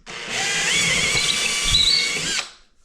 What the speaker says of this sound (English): Let's pre-drill this